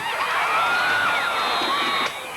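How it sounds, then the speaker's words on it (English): High school football crowd of Mayfield fans cheering and whooping at a game, a loud sustained roar of voices with rising shouts, dropping slightly at the end. "The Mayfield fans cheering for the team."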